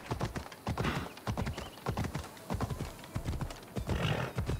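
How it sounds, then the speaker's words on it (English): Horse hooves clip-clopping in a steady rhythmic gait while riding in Assassin's Creed Odyssey, close and fairly loud over ambient game sound. "At least I'm taking the horse."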